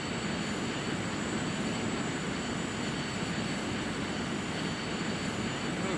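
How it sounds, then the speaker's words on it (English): A Lockheed T-33 jet taxis out toward the runway, its engine giving a steady, loud, unbroken roar with a high whine held throughout and no talking. "Okay, we're going to taxi on out to the runway."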